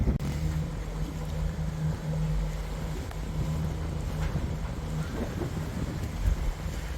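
Sailing boat under way on the last sail of the season, heading toward Rhodes in the Greek islands, with steady wind buffeting the microphone over a low hum and water rush throughout.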